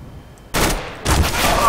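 Gunfire in the video game Counter-Strike: Global Offensive, with two loud broadband bursts of shots that cut in abruptly and sustain, close and dominant over a quiet background.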